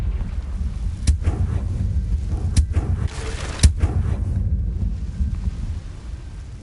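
Confringo fire-blast spell from Hogwarts Legacy going off in a string of sharp, loud explosive bursts over a rumbling, wind-like roar of game sound, ending more quietly.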